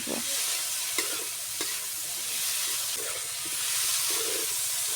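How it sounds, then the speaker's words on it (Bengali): Steady close sizzle of a pan stir-fry with cumin paste, broken by light periodic scrapes of a spatula and no voices. "এবার দিয়ে দেব জিরে বাটা দিয়ে আবার ভালো করে নেড়ে চেড়ে কষিয়ে নেব"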